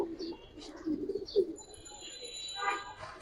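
Domestic pigeons, Giribaz and coloured breeds, give soft low coos and murmurs from nearby, with a thin high steady tone running through the second half.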